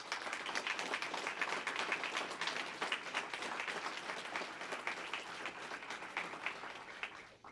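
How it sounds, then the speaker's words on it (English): Sustained applause fills the room at a Pasadena police awards ceremony, dense, steady clapping from the audience lasting throughout before tapering off at the end. "Please give them a round of applause."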